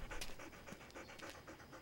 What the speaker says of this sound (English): He's panting. Panting is a dog's way of keeping cool when it's hot.